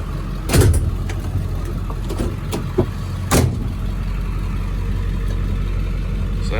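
A 2002 Ford F250 pickup with a 7.3L diesel drives along, its engine giving a steady low rumble. A few sharp knocks and thumps break through now and then.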